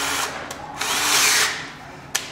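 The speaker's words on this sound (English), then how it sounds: "Drill your top one first." A power drill fitted with an auger bit bores into a wooden door to cut a mortice lock pocket, a steady whirring grind swelling and easing over a couple of seconds with a sharp knock near the end.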